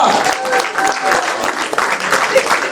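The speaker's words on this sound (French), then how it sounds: "On l'applaudit très fort. Lovina." Audience applause for Lovina at a 50th birthday party for Maman Lydie Ongoumba in Corbeil-Essonnes, a steady dense clapping that fills the whole stretch, with a speaking voice mixed in over it.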